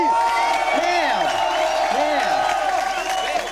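Crowd applause and cheering, a steady loud wash of clapping and whoops, with voices calling out over it throughout.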